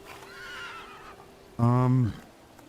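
A horse neighs loudly in the video game The Thaumaturge, one bright whinny of about half a second that stands out after quieter background sound.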